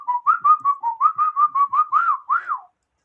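A single person whistles a quick, lilting tune of about a dozen short rising and falling notes, close and clear, ending after about two and a half seconds with no talking.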